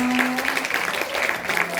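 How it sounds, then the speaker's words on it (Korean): An audience claps at a bilingual Mongolian-Korean community concert in South Korea. The applause is steady and fairly close, with a sustained low tone and some voices underneath. "박수 부탁드리겠습니다."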